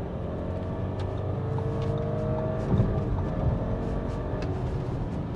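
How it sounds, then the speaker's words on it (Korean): Audi Q8 55 TFSI quattro SUV engine revving steadily under acceleration, a continuous low drone heard from inside the cabin with road and wind noise, no talking. "엔진은 그렇게 폭발적이지 않지만 가속할 때 들려주는 그 엔진의 회전 질감"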